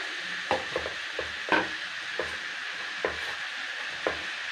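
Coriander, mint and curry leaves are stirred in a pan, giving a soft scraping swish with a few light clicks of the spoon spaced through a faint, steady sizzle, close up and with no voices.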